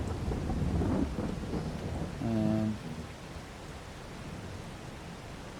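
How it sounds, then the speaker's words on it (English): Rain and thunder in the farming game Farming Simulator 22, a steady broadband rain hiss with a low rumble swelling early on and a brief tonal chime midway, continuous and fairly loud throughout. "this rain's due to stop at 1 o'clock"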